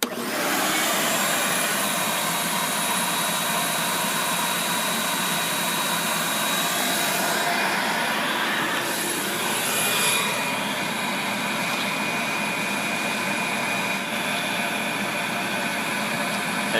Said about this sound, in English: Have you got enough vacuum?